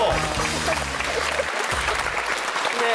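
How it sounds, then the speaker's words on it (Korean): A studio audience on a Korean talk show breaks into sustained applause, a thick, even wash of many hands clapping, with a low hum beneath it. "일단 박수 한번 쳐보고."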